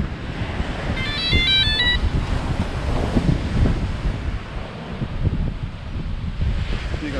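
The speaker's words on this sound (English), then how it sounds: "But the wind's quite strong, so pretty blowy." Strong wind buffets the microphone on a beach during drone fishing, a continuous loud rumbling roar with surf mixed in, and a brief electronic beeping tone near the start.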